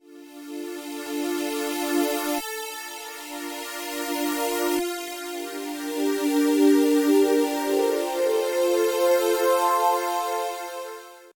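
A sustained tonal sample runs through Ableton Live 12's Texture warp mode, a granular, shimmering drone with abrupt shifts at two points, steady and moderately loud with no talk.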